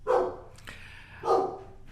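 A dog barks indoors during a podcast recording: two loud, close barks about a second apart, with quiet room sound between them and no talk.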